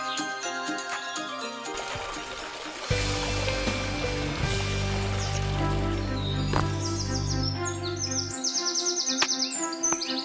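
Bright, high bird chirps flutter over a backdrop of steady cartoon music in an animated Hindi moral story about a bird and a snake, growing clearer and more frequent toward the end.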